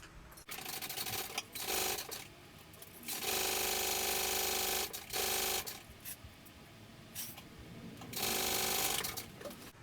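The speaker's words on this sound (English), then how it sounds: "Now we're going to baste these together." A sewing machine bastes sling bag pieces together in a few bursts of close, steady whirring with short pauses between them and no talking.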